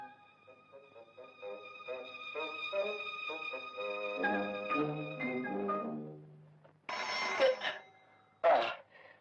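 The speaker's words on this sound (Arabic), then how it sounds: "جرس تليفون" A telephone bell rings in a scene from an Egyptian comedy film, sounding in two short, loud bursts near the end after a stretch of soft tonal music.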